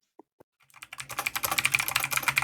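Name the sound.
typing on a computer keyboard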